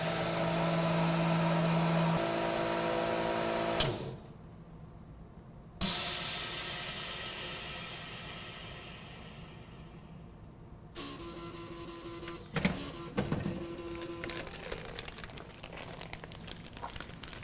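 An MVS45XP tabletop vacuum packaging machine runs on a heavy soup set to 97.5% vacuum: a steady pump drone with a tonal hum, a sudden cutoff, a hissing release, then quieter crackling and clicks as the seal finishes.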